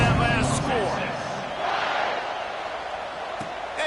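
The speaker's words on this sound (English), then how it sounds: "this crowd is buzzing after that last score" A stadium crowd in the video game NCAA Football 26 roars in a steady, loud wash beneath a commentator's continuous talk.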